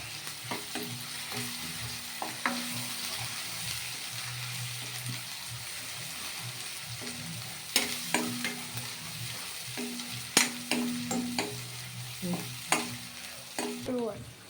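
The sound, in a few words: ginger and garlic frying in oil for chicken curry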